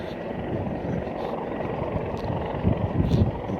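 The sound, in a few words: helicopter hovering while someone is lowered by rope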